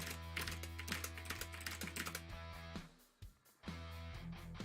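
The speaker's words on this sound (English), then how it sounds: "That's me typing." Rapid, irregular tapping on a computer keyboard, fairly faint, over a steady electrical hum, with a short pause near the end before the keystrokes resume.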